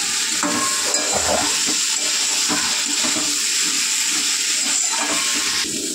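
A vegetable curry sizzles steadily in a pan with ginger and cumin as it is sautéed, a continuous frying hiss with occasional stirring scrapes and no talking.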